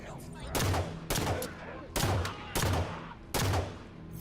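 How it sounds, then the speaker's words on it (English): Gunfire in the shooter video game Halo 5, four loud, evenly spaced bursts of rifle fire, close and punchy, each shot trailing into a short echoing decay. "I'm just shooting feet here."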